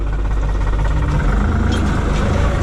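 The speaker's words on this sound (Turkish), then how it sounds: "bu yamayı yukarı çıkarken biraz zorlanıyor traktör" A tractor's engine labours steadily while climbing a slope in a field, a close, loud, low rumbling drone that continues unbroken throughout.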